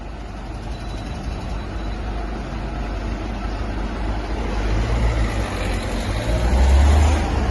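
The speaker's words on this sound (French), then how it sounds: "laisse passer le camion" A truck passes on the road, a low heavy engine rumble growing louder toward the end as it approaches close by, over steady traffic and outdoor noise.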